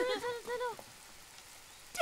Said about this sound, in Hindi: जब तक बारिश नहीं रुक जाती तब तक बस में ही पिकनिक मनाएंगे